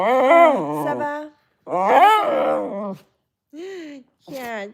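A playful dog lets out a series of loud, high whining yips and whimpers in uneven bursts with short silent gaps, close to the listener.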